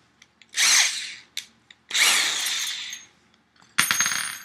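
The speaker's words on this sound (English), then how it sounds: "you're going to grab your drill." A power drill bores a hole for a jack into a Game Boy shell, with two loud whirring runs separated by small clicks, and a final harsher grinding burst close by.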